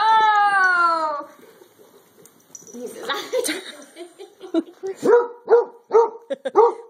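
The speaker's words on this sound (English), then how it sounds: "now we know why Lulu stands around and barks at the cat all day" A dog barks at a cat in a run of short, fairly loud barks near the end, after a drawn-out whining tone at the start, with brief voices between them.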